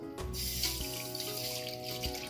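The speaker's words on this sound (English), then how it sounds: "Wash until the water is quite clear." Mung beans are rinsed under a running sink tap, the water splashing and streaming steadily throughout, close and moderately loud with a few brief knocks and no talk.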